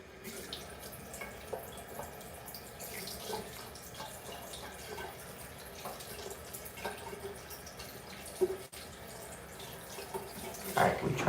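Water runs steadily from a tap into a sink, a soft continuous splashing stream at close range with a few small clunks near the end and no talking.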